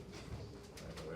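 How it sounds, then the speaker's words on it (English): A bird, likely a pigeon or dove, gives a brief soft cooing call, faint and somewhat distant against low background noise. "Bird, just birdie."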